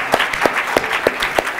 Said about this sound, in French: On va quand même applaudir les deux équipes